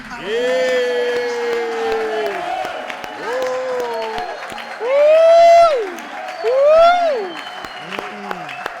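A church congregation at an evangelical day in Baden, Switzerland, cheers the Lord with loud rising shouts and clapping, the voices swelling in waves over a steady crowd noise.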